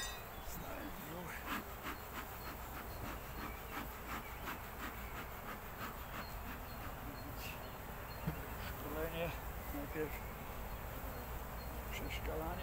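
Honeybees hum in a continuous, fairly loud drone while a hive is opened and its frames of stored food are checked after bad weather, with faint handling noises mixed in.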